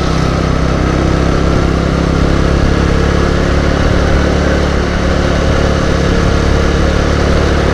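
An old motorbike engine runs steadily as it climbs a hill road toward Puncak Alai. The drone is loud, close and continuous with wind noise, and nobody speaks.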